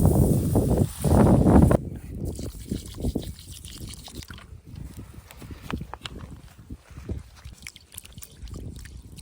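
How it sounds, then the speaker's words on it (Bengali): Rice is washed by hand in a pot of water in a village kitchen, with irregular sloshing, splashing and dribbling that starts loud, then continues as softer, uneven swishes and trickles. "তার জন্য এখন চালটাকে আমরা ধুয়ে নেব।"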